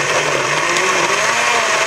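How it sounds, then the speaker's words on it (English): Blender whirring at high speed while blending fresh ginger and lemon for a tequila drink, a loud steady whine held evenly throughout with no talking. "into the blender and uh, blend that up nice and fast"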